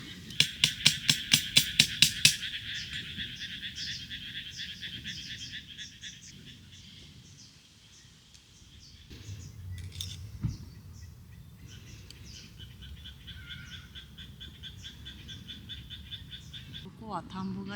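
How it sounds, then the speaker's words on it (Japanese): Frogs croak in daylight near rice paddies beside a breezy campsite, opening with a loud, rapid pulsing burst of calls before settling into a steady, softer chorus with faint chirps over it. "なんか昼間でも結構カエルが鳴いてて、"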